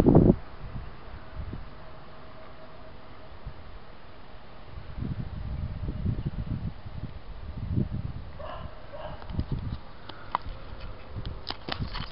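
Wind buffeting an unfiltered camera microphone outdoors, with low rumbling gusts swelling and fading across the clip and some rustling, no voices.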